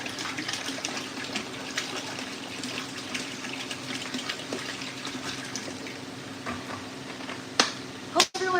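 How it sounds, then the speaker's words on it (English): Water steadily pouring to fill a container for a plant grow tent, a continuous close splashing rush that carries on throughout, with a couple of sharp knocks near the end. "So I have 16 gallons of water set aside here. We're going to fill it."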